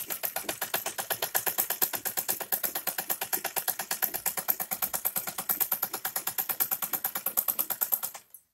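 A sewing machine stitches a seam on a tulip salwar, its needle hammering in a fast, even mechanical rhythm, loud and close without pause for about eight seconds before stopping abruptly.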